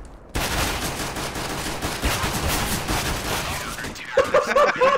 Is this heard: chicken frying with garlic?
no